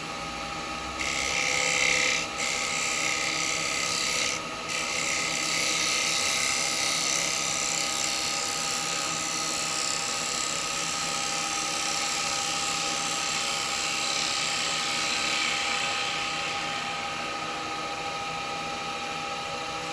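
A wood lathe spins steadily while a Doug Thompson 5/8-inch spindle gouge hollows out a wooden bowl, producing a continuous high whine with a few brief changes in cutting tone near the start.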